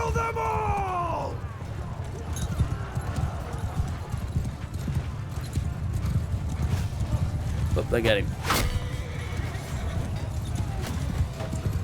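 Horses in a large medieval battle in the video game Mount & Blade II Bannerlord, a steady rumble of many hooves clip-clopping close by, with a horse whinnying and someone talking over it.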